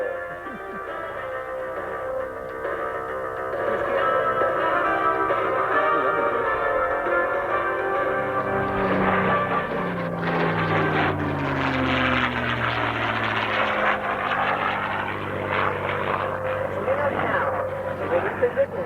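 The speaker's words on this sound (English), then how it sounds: "demonstrate the crisp rolling capabilities of the Mustang. We will perform the 8-point roll" A P-51 Mustang propeller fighter at an air show roars past in a sustained, loud engine drone that shifts pitch as it rolls, while an announcer talks over it.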